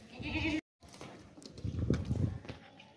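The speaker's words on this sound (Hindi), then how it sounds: "बहुत ही प्यारा बकरा है" A stout, healthy goat for Qurbani sale at a livestock market, bleating a few times nearby after a brief silent gap, with low rumbling market noise beneath.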